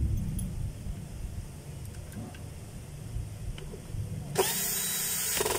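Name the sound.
power drill driving a screw into a housing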